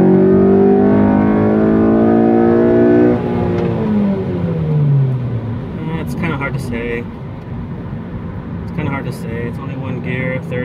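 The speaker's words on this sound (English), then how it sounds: "Let's see if we can do a little quick third gear." A Honda Civic Si with a throttle body spacer revs up through third gear from inside the cabin, the engine note climbing loudly and then easing off as road noise takes over.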